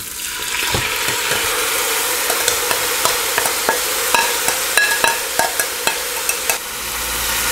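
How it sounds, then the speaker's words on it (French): Meat tipped into a pot of vegetables already frying for a raccoon jambalaya, giving a steady close sizzle with a run of sharp stirring clacks and scrapes toward the end. "on y va avec les autres légumes, qui va être la base, en fait, de notre jus. Et puis, on ajoute la viande"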